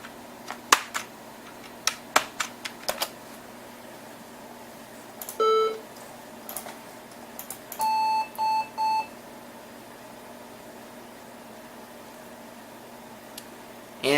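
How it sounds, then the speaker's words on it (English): A Macintosh Performa 640CD with its DOS compatibility card sounds a beep code, short electronic tones including a rhythmic series of three or four beeps, between scattered clicks and ticks in a quiet room. "And I'm getting a beep code"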